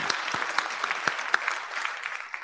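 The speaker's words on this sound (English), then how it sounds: "I know this is the bit you all love, the clapping." Scattered clapping from an audience at an IETF plenary session, a modest group with distinct individual claps standing out over a thin wash of applause.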